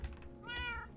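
A single drawn-out cat meow in the video game Minecraft, clear and close, rising then fading over a faint low hum.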